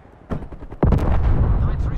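Gunfire from a strafe run killstreak in Call of Duty Cold War: a faint burst of shots, then a heavy, loud stretch of rapid firing and impacts that rumbles on without pause.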